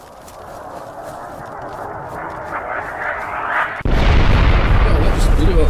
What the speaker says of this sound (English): Oh, that just blew up right next to us.